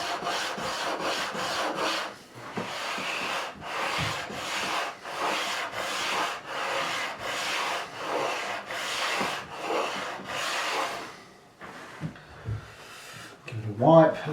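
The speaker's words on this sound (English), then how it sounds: "Just smoothing everything off now" A Warwick Corvette Double Buck bass neck sanded smooth by hand, with repeated close rubbing strokes in a steady rhythm. A short pause and a few light knocks come near the end.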